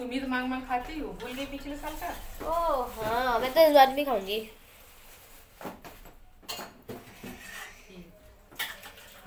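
A metal kadhai set down on a home stove with clanking of pots and utensils, brief knocks and scrapes coming after a stretch of speech and continuing sporadically.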